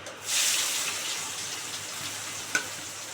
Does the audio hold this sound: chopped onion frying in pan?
yes